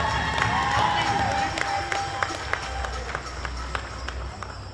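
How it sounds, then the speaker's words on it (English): An audience claps and cheers for a young girl just crowned at a Native American gathering, with loud whoops and sharp individual claps over crowd murmur and scattered voices. "give her a round of applause"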